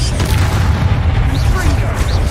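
Confringo and Bombarda spell explosions in the game Hogwarts Legacy, dense low booming blasts rumbling continuously under a speaking voice during combat.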